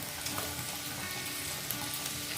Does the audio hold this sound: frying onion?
yes